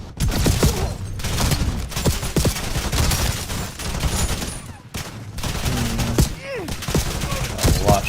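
Gunfire from enemies in the video game Fortnite, a dense, continuous barrage of shots and bursts running throughout, loud and close, with a brief lull near the middle before the shooting resumes.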